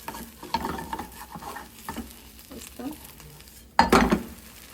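Food fries in a pan after being flipped, with a soft crackling sizzle and light stirring and scraping, then a louder burst of sizzle and clatter near the end, close by.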